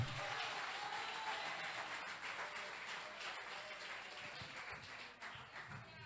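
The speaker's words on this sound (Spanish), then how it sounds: "Alguien que aplauda al Dios de toda gloria." A church congregation applauds steadily during a sermon, producing a continuous wash of clapping that is heard from a distance and remains fairly even before fading slightly at the end.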